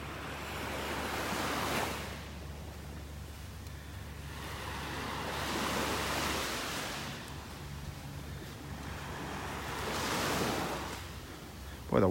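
Gentle ocean waves wash onto a beach in North Naples, Florida, breaking in slow, soft surges every few seconds with steady low wind rumble between them.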